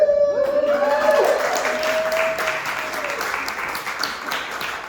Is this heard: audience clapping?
yes